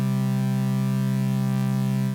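A steady electronic tone built from stacked, slightly detuned sine-wave harmonics, slowly wavering and phasing as its partials beat against each other at different rates, sustained and unbroken.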